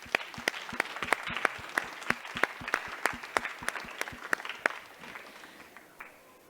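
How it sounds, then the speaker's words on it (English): Audience clapping for panelists at a COP27 conference session, a small room's worth of steady rhythmic claps, fairly quiet and even, fading out near the end. "a round of applause for our incredible panelists"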